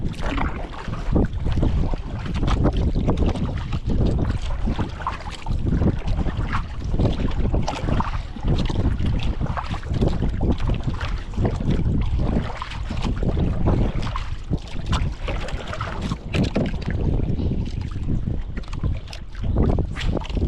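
Heavy wind buffets the microphone in a continuous roar while water sloshes around a small fishing boat, loud and unbroken for the whole stretch.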